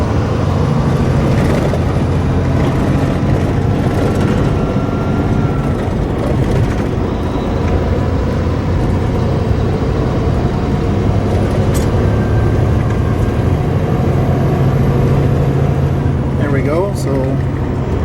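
An RV hauler truck slows from about 50 mph with its engine brake set to low, giving a steady, loud low-pitched rumble of engine and road noise that runs continuously throughout.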